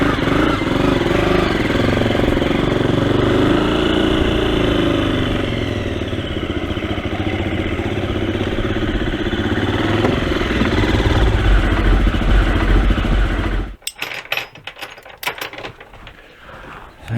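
A KTM motorcycle engine running loudly and steadily close by for about fourteen seconds, then cutting off, followed by clattering and metallic rattles.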